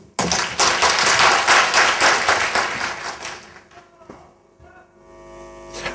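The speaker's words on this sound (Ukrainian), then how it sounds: "Оплески, друзі." A comedy-competition audience bursts into loud, dense applause that lasts a few seconds, then fades, leaving an electrical hum in the hall.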